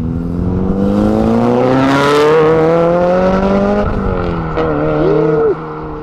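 A Mitsubishi Evo tuner car leaves the TRAX event at Silverstone, its engine note climbing loudly through the revs as it pulls away, then easing off with a brief chirp near the end.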